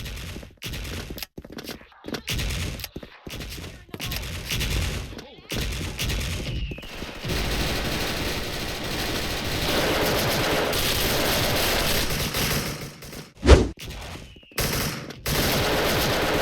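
Tiger-pattern Galil rifle fired in the online shooter Special Force, heard as loud, dense bursts of automatic gunfire that keep up over most of the stretch, with brief gaps between volleys.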